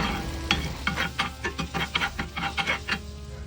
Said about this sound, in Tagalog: Nakapagsalang na tayo ng sizzling plate, tapos ilagyan natin ng butter.